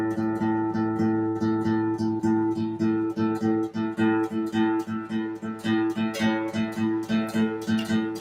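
A guitar plays a blues shuffle pattern on the open strings in A, a steady rhythmic chug of repeated low notes with plucked accents, moderately loud and alone.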